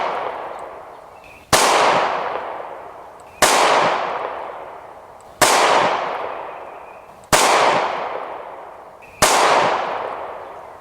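Smith & Wesson M&P 9mm pistol fired five times at spaced, steady intervals, each loud sharp crack followed by a long ringing decay, close up with no voices.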